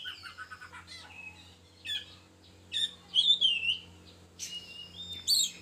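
Several bright, squawky oriental magpie-robin calls and whistled chirps in short bursts with pauses between, fairly close, over a low steady hum; the bird is overweight.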